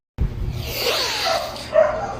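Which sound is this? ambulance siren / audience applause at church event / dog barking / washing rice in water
dog barking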